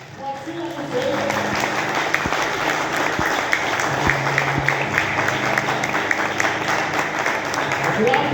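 Applause from an audience at an evening street event greets a performer introduced as the night's princess: sustained, dense clapping that swells after a quieter opening second, with a few sharper claps and a voice over it.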